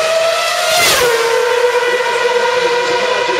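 An onboard Formula One car engine on the final lap of the 2009 Singapore Grand Prix screams at high revs, pitch sliding up then dropping and holding a steady whine as it runs close and loud.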